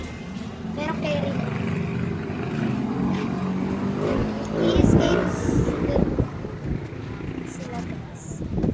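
Wind gusting steadily across a microphone outdoors at a roller skating spot, a constant rumbling roar under a person talking throughout, swelling briefly in the middle.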